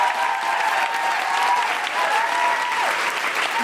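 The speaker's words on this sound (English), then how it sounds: "can I have an absolutely huge round of applause" Loud, dense audience applause at a live podcast recording with guests, a continuous wash of clapping throughout.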